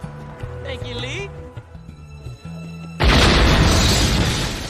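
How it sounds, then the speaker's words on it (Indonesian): A loud, sudden explosion in a movie scene bursts in about two-thirds of the way through and roars broadly before settling into a sustained rumble, after a stretch of dialogue and music. "Ledakan yang hebat terjadi"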